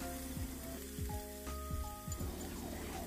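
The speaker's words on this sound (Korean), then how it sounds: "앞, 뒤 노릇노릇하게 잘 구워주세요." Beef tenderloin steak pan-frying with mushrooms, a steady close sizzle and crackle running throughout, with faint clinks of utensils over the frying.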